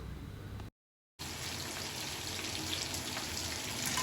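Chicken lollipops frying in hot oil give a steady, close hissing sizzle, broken by a brief cut to silence before the crackle resumes evenly.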